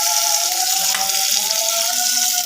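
Chopped onion hits hot oil in a pan while cooking spicy chicken curry, giving a loud, steady, close sizzle with a hissing crackle throughout.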